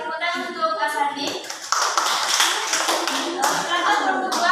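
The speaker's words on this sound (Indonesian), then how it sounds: "tepuk tangan untuk Kak Sandi." Audience applause during a classroom microteaching session, steady clapping from a group for about four seconds, with voices mixed in beneath.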